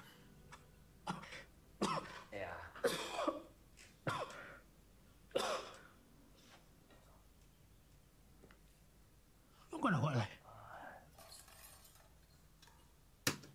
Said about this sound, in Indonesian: tadi kan ada adegan batuk nih